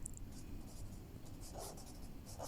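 Faint pen strokes writing out notes on hyperosmolar hyperglycemic state during a medical lecture on diabetes, a soft, low, continuous scratching with scattered light ticks and no speech.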